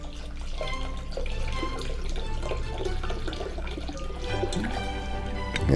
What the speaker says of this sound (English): We'll put in a cup of spring water.